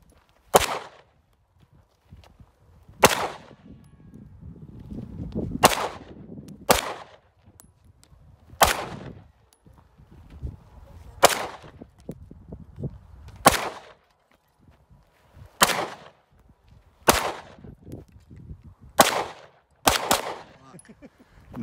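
Gunshots at an outdoor shooting session: about a dozen sharp, loud single cracks spaced a few seconds apart, with faint voices and movement between shots.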